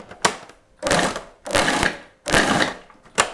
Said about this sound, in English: just break it up into pieces into your food processor, and then just give those a little whiz